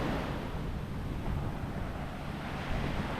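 Ocean waves on the beach at Okaloosa Island, Florida, a continuous broad wash of surf mixed with gusty wind buffeting the microphone, steady and fairly loud, no voices.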